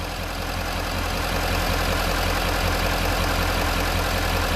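A car engine idles at a steady low rumble during a battery tester's idle test, running alone and evenly with no talk.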